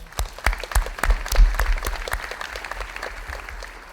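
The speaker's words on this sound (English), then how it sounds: "Can we give her a round of applause?" Audience applause at a business leadership award ceremony, beginning with a few loud, distinct claps that swell into a fuller round of clapping, then tapers slightly toward the end.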